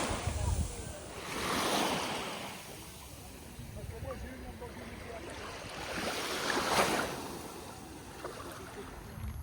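Sea waves wash onto a beach in Koh Samui, Thailand, in two slow swells of surf with wind buffeting the microphone between them, moderately close and fairly soft.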